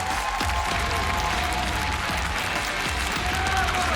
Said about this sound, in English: Look at him hype up the crowd as everybody goes crazy.